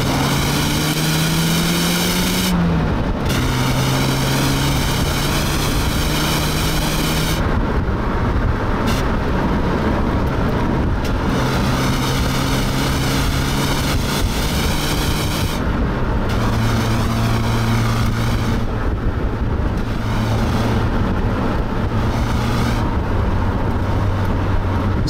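A 1991 Toyota Carina II 1.6 XL drives hard on twisty roads, its engine droning loudly from inside the cabin, revving up through the gears and dropping back with each shift change, steady and unbroken.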